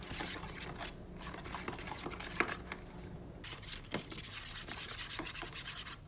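Paste being worked into broth with a utensil for a crockpot pot roast, giving a steady close scraping, rubbing stir with a few sharper knocks, no talking.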